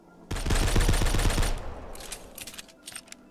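Rapid automatic gunfire from a submachine gun in a video game, a dense burst of shots lasting about a second, followed by scattered quieter shots and clatter.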